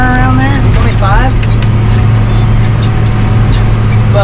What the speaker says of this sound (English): I didn't really realize how loud this cab was.